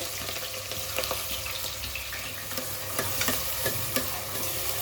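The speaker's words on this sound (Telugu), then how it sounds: "ఇదైతే బాగా ఉల్లిపాయలు బాగా ఎర్రగా వేగేంత వరకు వేయించుకున్నాము" Onions and green chillies fry in a pan for mutton curry, a steady close sizzle with scattered clicks of stirring running through the whole stretch, no voices.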